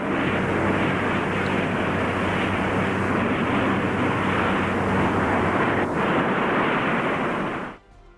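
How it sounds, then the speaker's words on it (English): A modified B-45 jet aircraft takes off in historic 1955 footage, a loud, steady broadband jet roar that holds for several seconds before cutting off abruptly, with no voices. "Historic footage captures the modified B-45's ascent on May 20th,"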